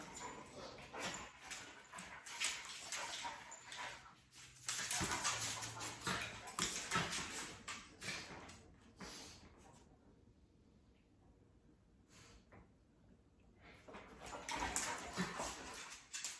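Dogs indoors whimper, yip and bark in bursts, fairly faint and distant, with brief quieter gaps between the outbursts.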